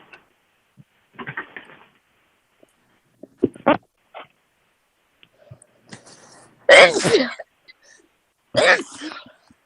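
A person sneezes during an online school committee meeting, a sharp burst followed by a second one shortly after, amid faint scattered room sounds and brief murmurs.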